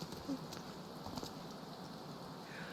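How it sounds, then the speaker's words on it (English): Rain falls in a video game at patch 6.55 as characters arrive home, a faint, even patter with soft drips holding steady throughout. "In the rain."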